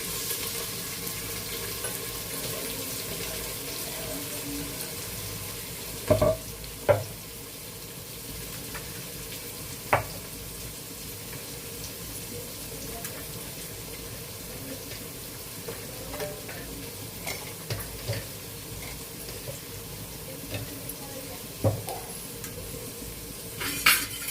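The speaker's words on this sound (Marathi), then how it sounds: "आता तेल गरम झालंय, आपण हा कांदा टाकून घेऊ त्याच्यामध्ये" Sliced onion frying in hot oil, a soft, steady sizzle with occasional clinks and scrapes of a utensil against the pan, fairly faint and close.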